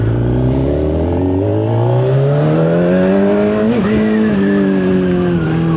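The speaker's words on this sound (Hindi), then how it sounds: "सो ये भी स्पोर्ट मोड पे लगी हुई है गाड़ी।" A Kawasaki Ninja Z1100 naked motorcycle in sport mode revs hard, its engine note climbing steadily through the gear, briefly dipping at a shift, then pulling again, loud and close throughout.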